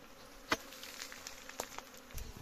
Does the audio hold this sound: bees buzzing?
yes